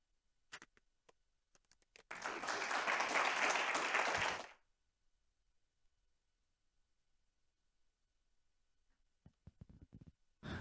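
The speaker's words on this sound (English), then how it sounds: "Let's give another round of applause for the excellent job that these orators are doing." An audience applauds at a university oratory competition, a burst of clapping lasting about two seconds that swells and then stops, with scattered ticks and small sounds before and after.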